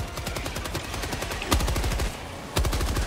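Rapid machine gun fire from the video game Helldivers 2, a dense run of steady repeated shots with two heavier bursts partway through, loud and close with no talking over it.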